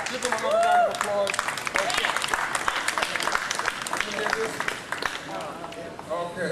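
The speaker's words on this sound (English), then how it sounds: "Give them another round of applause" Audience applause at a political campaign event for a New York district attorney candidate in Harlem, sustained clapping with voices and crowd talk over it.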